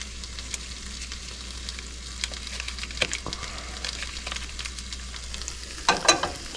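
Butter melting and sizzling in a pan over medium-high heat while pancakes are started, a soft steady crackle with a few louder pops and utensil clicks near the end.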